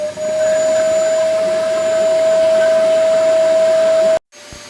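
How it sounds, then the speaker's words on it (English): A vacuum draws air out of a storage bag packed with jeans, giving a loud, steady whine and rush close by that cuts off abruptly near the end. "So vacuum pack part 2, we're going to try and seal this again."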